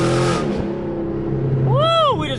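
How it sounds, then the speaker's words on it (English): A Chevrolet Camaro ZL1 on a test pull gives a loud, steady engine roar with a rising, sweeping pitch near the end, heard up close alongside a voice. "I'm gonna do these little test pulls real quick just to make sure that everything is on right"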